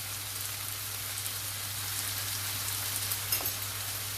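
Potatoes frying in a pan sizzle with a steady, even crackle beneath a constant low hum, with no voices.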